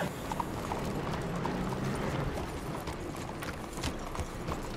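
A horse's hooves clop softly and irregularly in Red Dead Redemption 2, fairly faint beneath a steady bed of ambient outdoor noise, with no clear talking.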